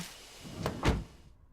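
A car door in the Death Mark video game, heard as a quick two-part clunk of opening and shutting, close and fairly soft, with a short rustle leading in.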